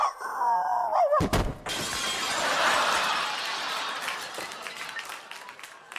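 A loud crash of breaking crockery and glass as a dog knocks a table over in a stage production of Peter Pan, followed by a long wash of audience noise.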